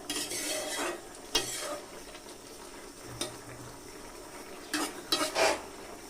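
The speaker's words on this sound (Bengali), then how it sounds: "তো চিনিটা দিয়ে এভাবে আবার একটু নাড়াচাড়া দিয়ে দেব" Puishak (Malabar spinach) greens stirred in a pan after sugar is added, a quiet sizzle under clusters of spatula scrapes and clinks against the pan, with no voices.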